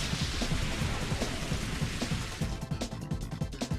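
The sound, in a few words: rain weather in Pokémon XD: Gale of Darkness video game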